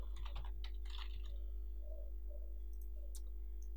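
Quick typing on a computer keyboard, a short burst of close clicking keystrokes at the start followed by a few scattered taps, soft and alone.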